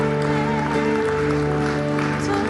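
A congregation claps during an evening church service, the applause continuous and even, mixed under a sustained keyboard-like tone that holds throughout.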